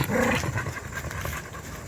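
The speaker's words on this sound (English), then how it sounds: "There they are, the dog pack." A pack of dogs at a hostel, including a neighbour's dog, panting and giving a low growl close by in a brief burst of canine noise.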